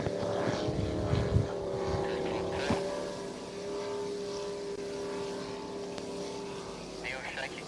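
A race boat's engine droning steadily as the boat heads onto the water at a club racing day, a sustained tonal roar held at even loudness throughout with a voice talking over it.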